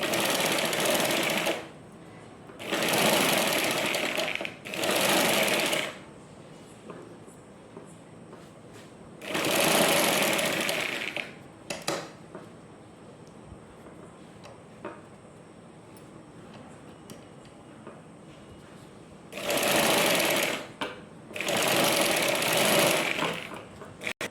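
A sewing machine stitching a blouse back neck runs in several loud, close bursts of rapid mechanical chatter lasting a few seconds each, separated by quieter pauses with faint handling clicks.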